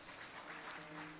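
Crowd clapping at a kirtan gathering in a village in Maharashtra, a short, steady burst of applause that goes on throughout, with a faint sustained tone underneath.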